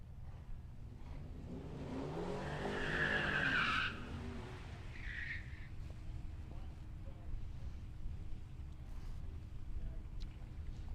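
A drag racing car launches hard down the strip at a raceway, with a loud rising engine roar and tire noise peaking in the first few seconds before fading into distant track ambience.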